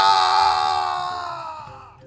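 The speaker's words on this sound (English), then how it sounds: "Dark Souls Death Scream." A drawn-out anguished scream from a game death effect, loud at first and slowly fading over about two seconds with a wavering pitch.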